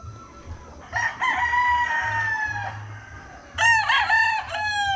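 Jogwood Gray gamefowl roosters crowing close by, two long drawn-out crows in succession with a brief clucking between, over a low background hum.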